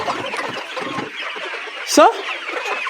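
Layer chickens cluck and squawk steadily while they run up and down for feed, with one louder, higher call near the end; a person speaks briefly over the flock.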